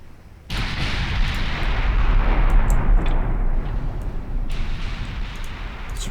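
A naval gun salvo in Ultimate Admiral Dreadnoughts bursts in abruptly with a heavy boom and rolls into a long, loud rumble, then a second blast swells later on.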